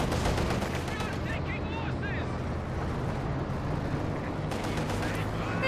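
Rapid video-game machine gun fire from LMG Grenadiers crackles in dense repeated bursts amid battle noise during a competitive strategy match, heard throughout under occasional commentary.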